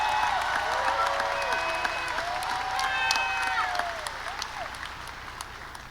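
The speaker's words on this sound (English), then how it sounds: "So let's give them a round of applause again." An audience at a Caldwell High School ceremony applauds honor graduates, a sustained dense round of clapping from a large crowd indoors with a few scattered cheers, slowly tapering off.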